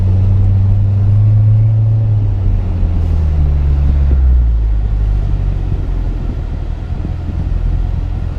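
A 2017 Corvette Z06 sits in drive at a launch, its engine rumbling loud and close with low, steady droning tones that shift in pitch as the revs change, continuous for the whole stretch with no talk.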